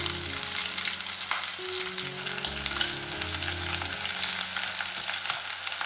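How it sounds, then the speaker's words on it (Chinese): Minced meat, squid and shiitake mushrooms stir-frying in hot oil in a wok, a dense continuous sizzle with soft low stirring movements underneath, close and steady with no talking. "然后我们来起锅热油，把肉末放进来炒香。 再把鱿鱼、香菇放进来，"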